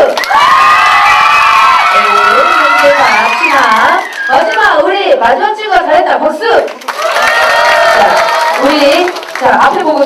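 Children at a youth festival cheer loudly and clap for a performer, a dense burst of high shouts, whoops and squeals that keeps going for about ten seconds with brief dips.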